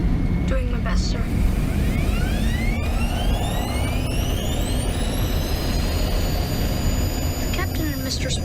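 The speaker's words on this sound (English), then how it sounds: "Flight attendants, prepare for takeoff." Jet airliner engines roar loudly and steadily through a takeoff, with rising turbine whines sweeping upward over a constant, heavy rumble.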